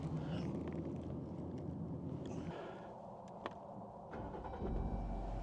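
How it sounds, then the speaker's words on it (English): A Jeep on 37-inch mud terrain tires drives over a GoPro, its engine a steady low rumble throughout with a brief sharp knock midway and the engine swelling louder near the end. "I'm going to run over the GoPro with my 37-inch mud terrain tires on my Jeep here."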